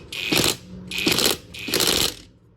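Budget impact wrench tightening a nut, three short bursts of rapid mechanical hammering separated by brief pauses, close and fairly loud, with no talking.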